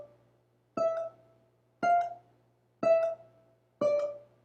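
A single string is plucked four times at an even pace, each note cut short by a touch of the thumb so it stops dead instead of ringing; the notes are clean and close, with silence between them.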